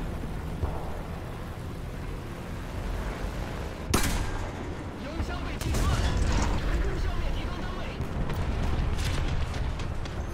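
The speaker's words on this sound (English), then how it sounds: "Someone shot at me." Incoming gunfire and blasts hitting near a vehicle in War Thunder, a sharp crack around four seconds followed by heavier rumbling volleys, loud and close amid the battle noise, with occasional talking.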